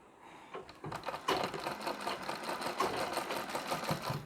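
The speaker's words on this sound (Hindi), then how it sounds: "अब यहाँ तक हमने बारीक टाका लगाया।" A sewing machine runs fine, close stitches along Nauvari saree fabric. It starts with a few slow, uneven stitches, then settles into a steady, rapid mechanical chatter up close.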